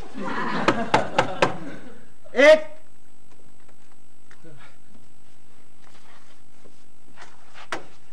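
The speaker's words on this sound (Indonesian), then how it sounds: "Ketoknya yang kenceng." Four quick loud knocks on a door at an Indonesian home in a TV comedy setting, followed by a brief shout and then faint distant voices in a quiet room.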